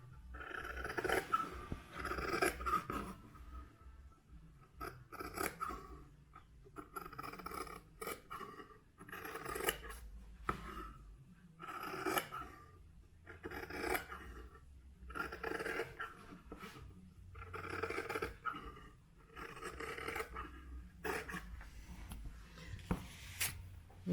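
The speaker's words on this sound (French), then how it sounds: "vous n'avez plus qu'à couper sur vos traits que vous avez fait sur votre tissu" Scissors snip through fabric along traced lines for a face mask, a close series of repeated crisp cutting strokes with brief pauses between them and no talking.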